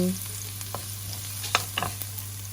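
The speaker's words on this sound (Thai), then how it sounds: "เอากระทะตั้งไฟ ใส่น้ำมันโอลีฟลงไป พอน้ำมันร้อน เราก็เอากระเทียม ลงไปเกี่ยวให้เหลืองนิดนึง" Garlic sizzles in hot olive oil in a pan, a faint, steady frying hiss with a few small crackles and stirring touches, with no voices.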